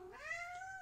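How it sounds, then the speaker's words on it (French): A timid indoor cat gives a single short, faint meow that rises in pitch and then holds, heard alone in a quiet room. "c'est un chat qui est extrêmement insécure et peureux."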